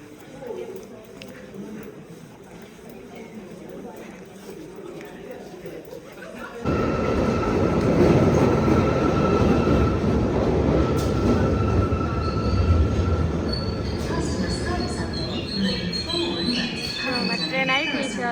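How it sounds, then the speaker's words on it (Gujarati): A train pulls into a London railway station: quiet platform ambience with voices gives way abruptly to a loud, sustained rumble of rolling carriages with high wheel squeal close by. "ટ્રેન આવી ગઈ છે હવે."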